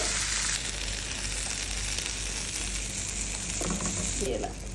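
Fish fries with pepper and curry leaves in a pan, giving a dense, continuous sizzling hiss that stays loud and even, with a brief lower rattle near the end.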